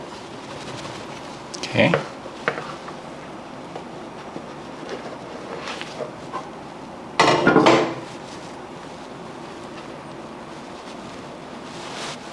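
A banana bread loaf rattled in its baking pan to loosen it in a home kitchen, two short bursts of clattering a few seconds apart, with a brief spoken word and quiet room noise between them.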